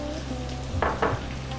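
Ginger garlic paste hitting a hot pan for chicken curry, a steady close sizzle with two short bursts of crackling spatter as it lands.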